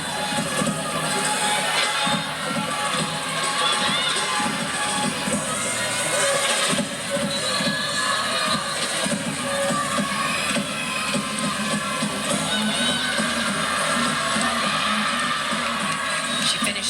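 A crowd at a women's college gymnastics meet between Arizona State and Arizona fills a big arena with continuous loud cheering and shouting for the whole stretch, while a voice talks over it.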